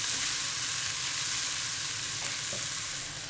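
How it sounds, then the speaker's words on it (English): Thinly sliced onions fry in bacon fat in a pan with a loud, continuous hiss and crackle and a few soft stirring scrapes, with no voices. "With the onion thinly sliced, I'm frying them in the bacon fat for 1 minute."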